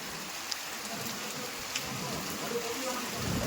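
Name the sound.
rain falling in Bhanvad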